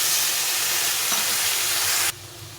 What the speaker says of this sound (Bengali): এখন দিয়ে দেবো পোস্ত বাটি ধুয়ে দিয়ে একটু জল দিয়ে দেবো